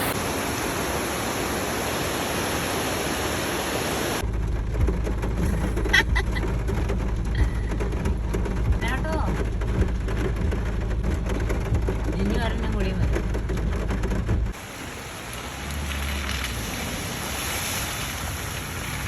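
At an Idukki tourist spot, a small stream flowing near a bridge gives a steady broadband rush of water, heavy with low rumble in the middle stretch, while people talk over it.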